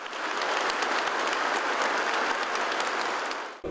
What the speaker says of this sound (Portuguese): que os recebeu com aplausos.